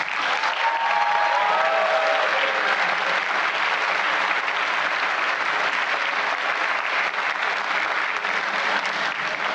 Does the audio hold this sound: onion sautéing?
no